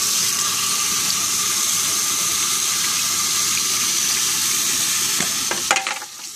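Warm water runs steadily from a tap to rinse a frozen Kong dog toy, a continuous close hiss of flowing water that breaks into a few clunks and splashes as the toy is moved at the end.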